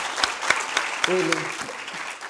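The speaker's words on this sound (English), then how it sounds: "a round of applause again" Audience applause at a digital and future skills national conference, a spread of claps filling the room at moderate level while a voice speaks briefly over it.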